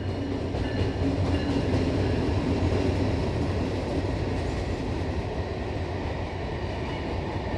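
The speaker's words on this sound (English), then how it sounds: "That's a freight train. They're louder and slower than the Long Island Railroad." A freight train rolls past at close range, a loud, steady low rumble of wheels and cars with faint clickety-clack that holds for the whole stretch, heavier and slower than a commuter train.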